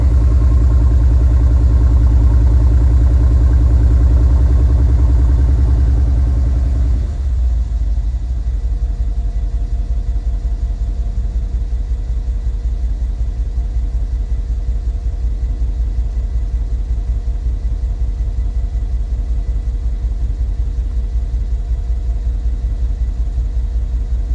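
A 2013 Mercedes G63 engine idles steadily while warming up after an O2 sensor replacement, a loud, close, continuous low rumble that settles slightly quieter after a few seconds and then holds an even drone with no talk.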